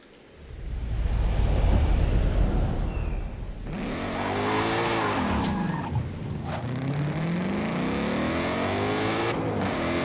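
The new Ford Mustang roars as it launches hard, a loud engine surge with tire squeal, then repeated rising revs and gear-like pitch sweeps as it pulls away, close and intense.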